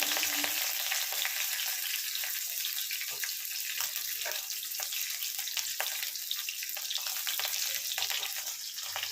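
Whole spices for an okra curry sizzle in hot oil, a steady bright hiss of frying that holds evenly throughout with small crackling pops and no voices.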